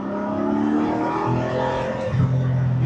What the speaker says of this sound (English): You hear the engine right here more than you hear the exhaust.